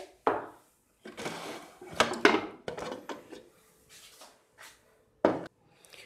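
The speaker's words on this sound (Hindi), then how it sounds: "और अब विसल हटाकर देखते हैं।" Someone removes the whistle from a pressure cooker of mutton and opens it, making a few sharp metallic clanks and clinks with quiet pauses between them, close by and without speech.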